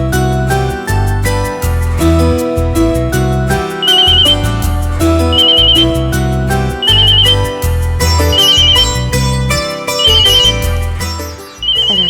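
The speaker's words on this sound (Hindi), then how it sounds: "Rakesh Mohini madam phone करछथि।" A telephone ringtone plays repeatedly in a domestic scene from an Odia television serial, its electronic trill recurring at regular intervals over loud continuous background music, with no voices.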